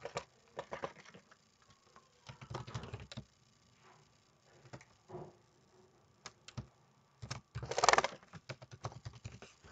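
Password being typed on a computer keyboard while signing a new Gmail account into Google Chrome: bursts of close, quiet key taps with short pauses between them and a faster cluster near the end, with no talking.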